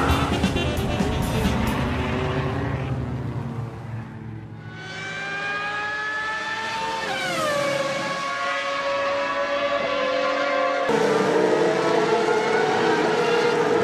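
A race car pulling away after a pit stop, its engine climbing loudly through rising revs, dropping pitch at each gear change, then climbing again, loud and close with no talking.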